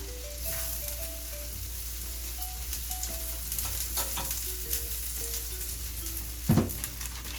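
A quesadilla tortilla sizzles in butter in a pan, a steady close crackling hiss with a low hum underneath and a sharper clatter near the end, without talking.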